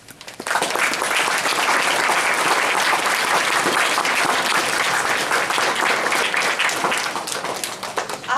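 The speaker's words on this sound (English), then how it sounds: "I just would like to give you a round of applause" Loud, sustained applause from a school musical audience, dense clapping that swells in quickly and holds steady for several seconds before easing slightly at the end.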